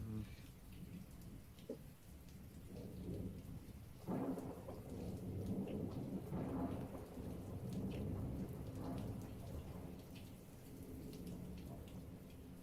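Rain falls steadily while thunder rumbles in long, low rolls, swelling midway and lingering, a fairly faint, distant storm with no voices over it.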